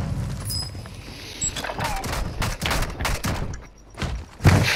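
Rapid bursts of automatic gunfire crackle repeatedly in a Call of Duty Warzone Resurgence match, loud and close, with a heavy thump near the end.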